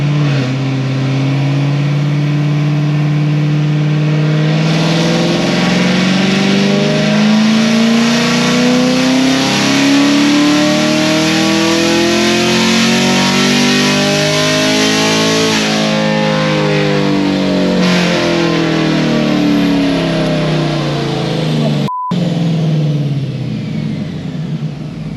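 A car engine revs hard at full throttle with its exhaust valves held shut in stealth mode, a loud steady droning roar that climbs in pitch, levels off and falls back over about twenty seconds, with no talking.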